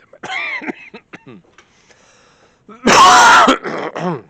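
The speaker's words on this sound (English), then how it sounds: "Still clearing my throat." A loud, harsh throat clearing bursts out once, following quiet breathy sounds and a few scattered small noises.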